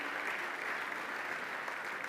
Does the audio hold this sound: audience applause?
yes